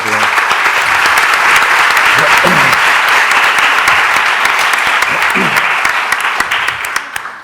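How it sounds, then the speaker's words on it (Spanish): A crowd at a bookshop talk on independent bookstores breaks into loud, dense applause that holds steady, then begins to thin and fade near the end. "un fuerte aplauso para esto"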